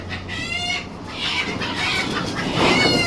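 Chickens cluck at a busy animal market in Kuwait, a dense layer of bird calls over steady crowd and ambient noise, growing a little louder toward the end.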